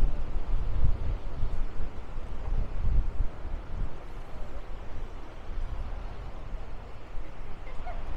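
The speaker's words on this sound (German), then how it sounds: "ihr seht selber, wie windig das jetzt hier ist" Wind gusting hard across an open seaside spot on Gran Canaria, buffeting the microphone with a continuous low rumbling roar that swells and eases, with no voices over it.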